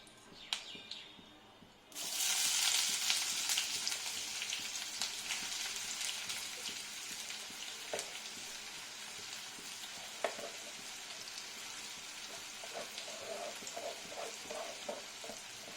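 Sliced onions drop into mustard oil with a little ghee for chicken bhuna khichuri and burst into a loud, sustained sizzle after a brief quiet start, with occasional stirring knocks through the frying.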